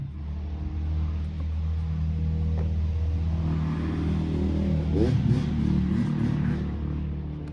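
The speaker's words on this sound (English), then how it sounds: "Everyone's out riding their bikes out in the desert" Motorbikes riding out in the desert on a warm day, a steady engine rumble with a brief revving rise partway through, moderately distant and continuous.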